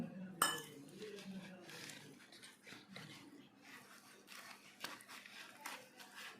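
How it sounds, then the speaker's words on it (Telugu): Utensil clinking and scraping against a bowl while batter is stirred in one direction with milk added, faint and irregular, with a louder clink near the start and soft talk underneath. "కొంచెం మిల్క్ యాడ్ చేసుకుంటూ కలుపుకుందాం"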